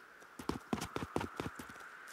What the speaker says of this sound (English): It has Fred the Horse